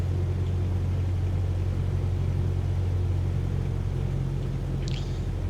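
Cessna 152 training aircraft engine at throttle during a flying school circuit, a loud steady low droning hum heard from inside the cabin, no talking.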